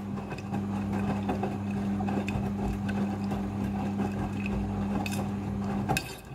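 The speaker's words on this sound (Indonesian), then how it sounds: "Mesin cuci front loading sudah full automatic dalam mencuci" A full automatic front-loading washing machine runs its wash cycle with a steady motor hum and drum churning, fairly close, ending in a short clunk near the end.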